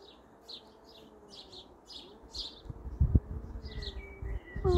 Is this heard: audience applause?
no